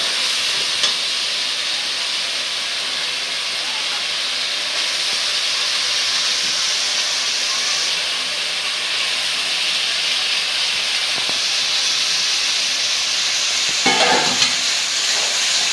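Koi fish sizzling and frying in oil over cooked-down spices, a steady loud hiss throughout with a brief clatter near the end.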